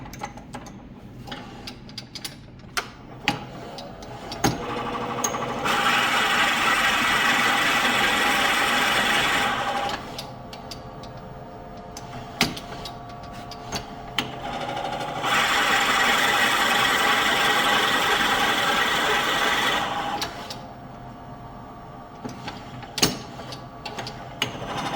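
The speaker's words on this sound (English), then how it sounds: "Next thing we're going to do is drill this out." Drilling out a black walnut salt shaker blank on a wood lathe, two sustained steady drilling passes separated by quieter gaps with clicks and handling noises.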